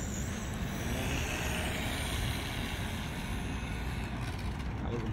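A Team Associated RC18R radio-controlled car runs at full throttle, giving a loud, steady, dense whine and roar that holds nearly level for the whole stretch, close by and with no talk.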